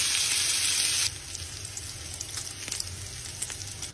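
Bacon frying in a pan for carbonara: loud bright sizzling that drops suddenly to a softer, steady crackle with scattered pops.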